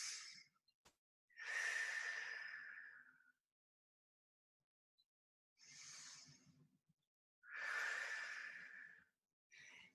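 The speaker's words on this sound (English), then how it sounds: "take 2 deep breaths" Slow, deep breaths during a floor-based flexibility class, long airy inhales and exhales in a calm rhythm with pauses of silence between them, close and fairly quiet.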